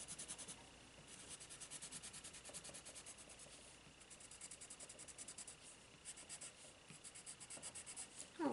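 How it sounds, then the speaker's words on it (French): A colored pencil blender rubs across paper while a dragon picture is colored, giving a faint, steady scratchy swishing of repeated strokes that runs throughout with no talking. "Ok, on va prendre le blender. On va mélanger un peu tout ça."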